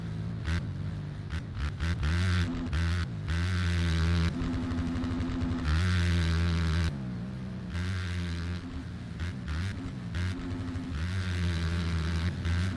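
Motocross bikes in a Backyard MX B class race at Unadilla roar through the final corners, loud revving engines rising and falling in pitch with gear changes, continuous and close, no talk over them.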